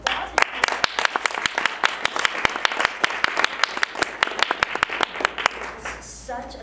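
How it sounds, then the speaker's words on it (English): Audience applause at an evening gathering of a Harry Potter fan group, a steady burst of many hands clapping with sharp individual claps standing out, fading out near the end. "So I ask that you give her a round of applause."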